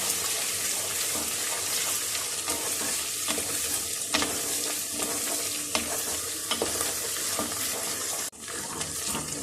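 Onions browned with ginger garlic paste fry steadily in a pan for aalu gosht, a continuous loud sizzle with occasional stirring scrapes, and a sharp break near the end.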